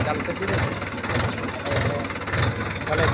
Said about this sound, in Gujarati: ટ્રેક્ટર આપણે ચાલુ કરી દે